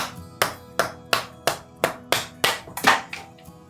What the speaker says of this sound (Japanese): ショックレスハンマーで今回叩いていきます。